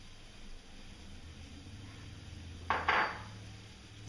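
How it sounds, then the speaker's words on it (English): A bowl for mixing a salad dressing is picked up and set down in a quiet kitchen, making a short, moderately loud clatter of two or three quick knocks near the end, with no talking. "Now I'm just grabbing an extra bowl here because I'm going to mix up a dressing."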